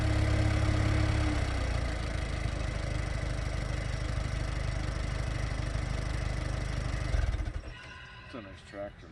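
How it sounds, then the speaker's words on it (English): A new farm tractor engine idles at steady, loud volume for about seven seconds, then cuts off abruptly, leaving near silence with faint small noises. "It's a nice tractor, man. That thing sounds great."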